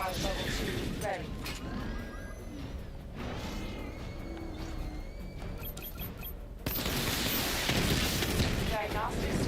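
Missile barrage explosions in Batman: Arkham Knight, heavy booms and bursts going off in quick succession under a game voice and a player talking, with a louder surge of blasts near the end.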